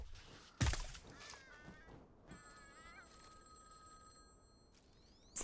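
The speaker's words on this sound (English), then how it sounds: "Do you guys hear the phone ringing?" A telephone rings in the video game Baby Steps, sounding as a sustained electronic ringtone with steady tonal warbles under a loud thump, heard at moderate level against quiet ambience.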